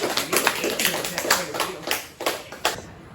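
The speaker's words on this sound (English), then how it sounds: "Give them a round of applause." Applause for a presenter in a classroom, a small group clapping in uneven bursts with voices talking over it.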